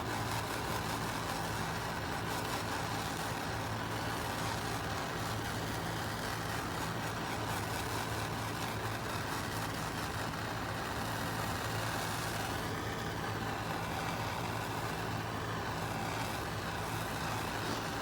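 A propane torch burns with a steady, unbroken roar that holds at an even loudness throughout, with no other sounds.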